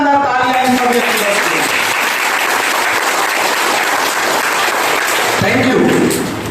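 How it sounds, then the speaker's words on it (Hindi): Applause from a large audience at a gathering, loud and sustained throughout, with some voices and cheers mixed in near the start. "मैं चाहता हूँ अब तक की सबसे शानदार शानदार तालियां इन सब के लिए"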